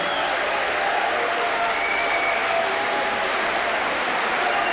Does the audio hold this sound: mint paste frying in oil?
no